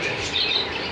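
Birds chirp at a crowded bird market, a steady wash of high twittering and tweets blended with busy ambient noise, no speech.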